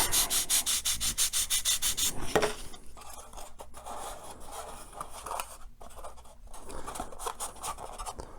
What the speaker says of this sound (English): Let's go with a little sandpaper.